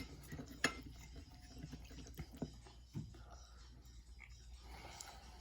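A knife and fork clink and scrape against a plate while a steak is cut beside pasta in Peruvian green sauce. A few distinct sharp taps stand out over a quiet, low room background, with no talking.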